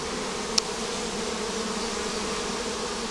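A honey bee swarm that has settled inside a hive drones as a steady, dense buzz close by, with one brief sharp click early on.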